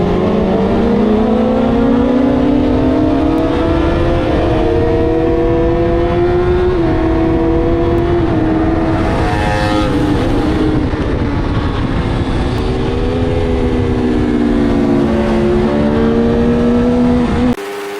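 Onboard a motorbike lapping the Mallory Park circuit on a track day, the engine drones loud and steady with a rising and falling pitch as it changes gear and revs, under constant rushing wind.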